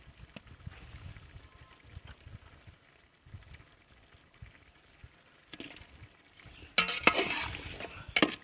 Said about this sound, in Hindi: चिकन को जो है ना मसाले के अंदर भुनना है। साथ ही हम आलू भी डाल देंगे।